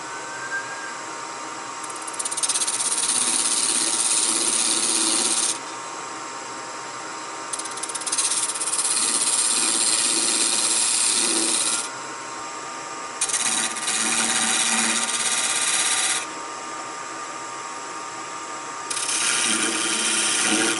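A tool handle spinning on a wood lathe with a wire held against it to burn grooves gives bursts of loud, close friction hissing and rubbing, starting and stopping several times over the steady hum of the machine.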